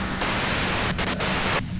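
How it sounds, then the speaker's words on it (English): Steady radio static and white noise from the video game Disco Elysium, a loud broadband hiss filling the whole clip with a few brief dropouts near the end, no voices. "you can do it through the white noise."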